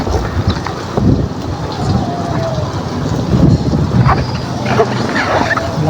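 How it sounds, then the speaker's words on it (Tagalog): Strong, cold wind buffets the microphone on a tricycle ride in the Philippines, a constant loud roar with rumbling gusts throughout and no clear speech over it. "Naglamig, lakas ng hangin, no?"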